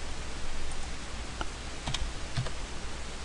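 Computer keys are tapped in a short burst of a few distinct clicks, close and fairly clear over a steady low background hum, with no talking.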